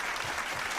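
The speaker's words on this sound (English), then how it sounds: "Round of applause for Commodore Friday." A brief round of applause from an audience greeting Commodore Friday, steady clapping filling the whole moment with no voices over it.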